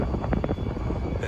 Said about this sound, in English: that was an intentional flyover there